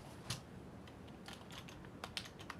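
Typing on a computer keyboard, a scatter of faint, irregular key clicks over quiet background hiss, with no talk.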